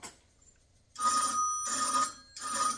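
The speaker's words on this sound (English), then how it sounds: "to make the bell ring inside your house is 45 volts of electricity to make the bell go" An old home telephone bell driven by line voltage rings in three clear bursts, each about half a second to a second long, separated by short gaps, moderately loud and close with no talk.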